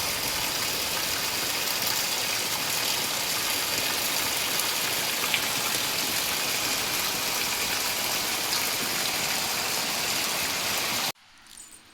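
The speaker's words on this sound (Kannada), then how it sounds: "ಹೆಂಗೆ ಬಡಿತಾಯ್ತು ನೋಡ್ರಿ ಮಳೆ ಹಂಗೆ" Heavy rain pounds down steadily and loudly as a dense, continuous roar of drops for about eleven seconds, then cuts off abruptly into near quiet.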